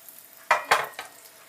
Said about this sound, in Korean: 식용유를 먼저 둘러서 달구고요. 그 다음에 또 약간의 버터 넣겠습니다